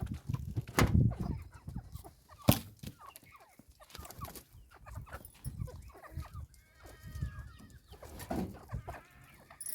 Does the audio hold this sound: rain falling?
no